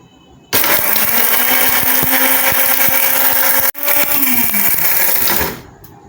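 An electric grinder loudly whirs through Balochi tikka masala spices for a coarse grind, a steady roar of about five seconds with a brief cut near the end before it winds down to quiet.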